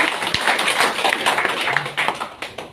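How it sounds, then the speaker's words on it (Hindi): Dense, steady applause from an audience at a DXN international business meeting in Dubai, many hands clapping together in a continuous wash for nearly three seconds with no break. "तो जोरदार तालियां आवर ग्रेट महागुरु"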